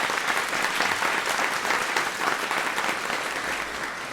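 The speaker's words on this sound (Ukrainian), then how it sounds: "Ваші оплески." Audience applause from a crowd at a live event, dense, steady clapping filling the whole stretch at close range, easing slightly toward the end with no talk.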